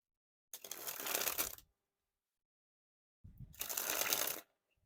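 Red Smoke and Mirrors v6 playing cards, soft and bendy, sprung from hand to hand in two quick bursts of rapid riffling flutter, close and fairly quiet, with a short silence between.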